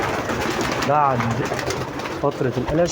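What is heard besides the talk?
homing pigeons cooing in a loft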